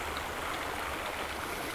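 Rain-swollen water rushes down a ditch beside a farm greenhouse, a steady, close, broadband roar of flowing water with no voices.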